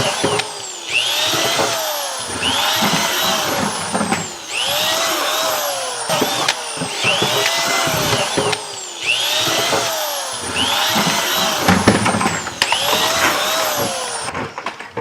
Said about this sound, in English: let's get this stuff situated, and we'll start drilling some holes